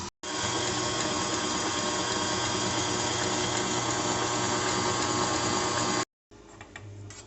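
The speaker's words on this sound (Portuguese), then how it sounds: "Agora eu coloco bater, gente, na velocidade 1 ou 2 da minha batedeira." A stand mixer whips cream for chantilly at low speed, 1 or 2, with a steady, continuous motor whir and beater hum that cuts off briefly and then resumes, loud and close with no talking.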